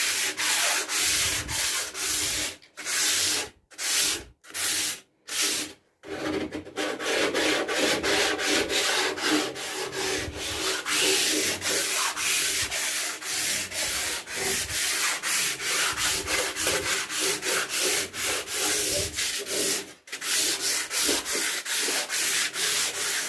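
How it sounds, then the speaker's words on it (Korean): Sandpaper rubs steadily over freshly painted wood on an old drawer being remade into a storage cabinet, close, rhythmic back-and-forth strokes with a few short pauses. "나무의 표면이 까실까실하게 올라와서 이제 사포 작업을 해줄게요"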